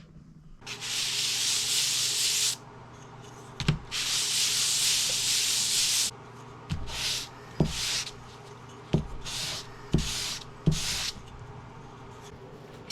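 Polyacrylic finish being brushed or wiped onto wooden end-grain coasters, heard as long, close rasping strokes followed by shorter rubbing passes and light taps, with no talk.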